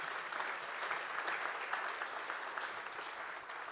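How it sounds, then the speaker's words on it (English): Steady applause from a conference audience at an agricultural event fills the room, a dense, even patter of many hands clapping at moderate distance, without voices over it. "can we get a round of applause for them for helping make this amazing event?"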